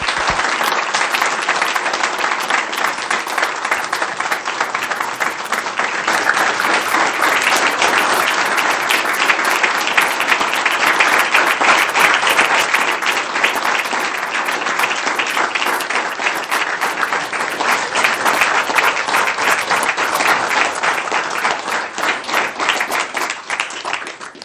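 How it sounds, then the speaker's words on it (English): Sustained audience applause fills a city council meeting chamber, steady and dense from start to finish with no break, the clapping loud and close throughout without voices over it. "If you'd all join me in a round of applause for Officer Swanson."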